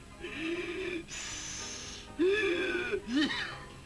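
Heavy, wheezy breaths in and out, a few drawn-out inhales and exhales with a raspy, whistling quality, close by.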